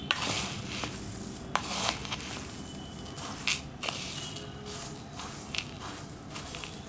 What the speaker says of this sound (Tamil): எல்லா சீட்ஸையும் நம்ம வறுத்துட்டோம் பாருங்கள். இதை வந்து நல்லா நம்ம கலக்கி விட்டு ஆறட்டும்